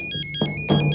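A telephone ringtone in a Telugu comedy scene plays a repeating electronic melody of bright tones, with a louder burst of ringing partway through; no one speaks over it.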